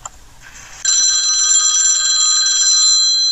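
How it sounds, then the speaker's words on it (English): A telephone rings with a steady electronic tone that starts suddenly after a short quiet moment and keeps ringing, loud and close, with no talking. "After that, the phone rang"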